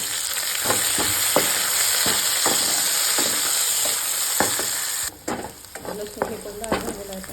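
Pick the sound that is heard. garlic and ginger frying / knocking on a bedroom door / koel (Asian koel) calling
garlic and ginger frying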